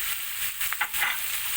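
Diced tomatoes, two of them, dropped into a hot pan for a mushroom and basil pasta sauce, giving a steady, close hiss of sizzling with a brief stir in the middle.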